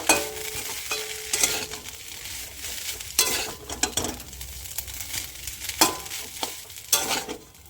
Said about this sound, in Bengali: লবণটা দিয়ে নিয়েছি স্বাদ অনুযায়ী দিয়ে ভালো করে একটু নাড়া দিয়ে নেব